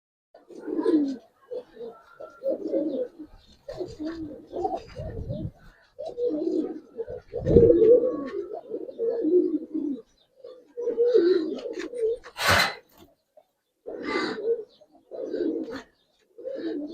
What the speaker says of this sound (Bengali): সম্পূর্ণ চড়া চোখের কবুতর ভাই